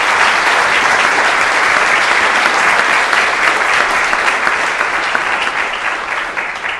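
Steady, loud applause from the audience at a city council meeting, a dense wash of clapping that holds evenly throughout and eases slightly at the very end, with no talking over it.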